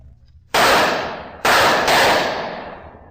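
Gunshots are fired at wine barrels: two sharp, loud blasts about a second apart, each followed by a long decaying rumble and a faint crackle in between.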